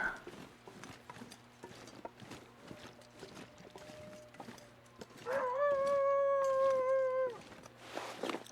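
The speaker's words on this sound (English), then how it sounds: "That's a dog." A dog howls in The Long Dark survival game, a sustained wavering tone lasting a couple of seconds amid crunching footsteps and wind, fairly distinct over the ambient bed.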